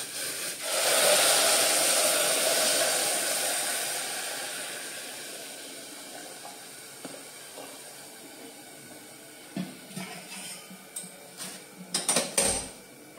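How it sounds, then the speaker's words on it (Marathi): Boiling water is poured into rice for brinjal rice, giving a loud rushing hiss that gradually fades, followed by several close metallic clinks of utensils against the pot. "हे उकळतं पाणी हे आपण आता ह्या तांदूळामध्ये घालणार आहोत"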